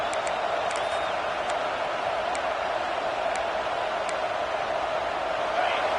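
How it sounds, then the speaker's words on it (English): Stadium crowd noise in the college football video game College Football 26, at a Florida State game: a constant, broad roar of fans with faint whoops, steady throughout, under talk. "This offense trying to quieten the crowd on 1st and goal, and they are not cooperating."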